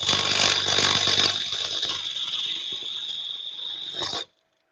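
A wood lathe spins while a spindle gouge cuts a bowl, a steady high whine with scraping, rasping tool contact, louder at first then easing before stopping abruptly into silence.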